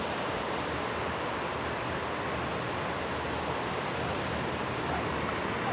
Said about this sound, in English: With the sound of the waves